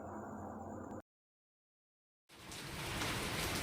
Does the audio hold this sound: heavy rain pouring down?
yes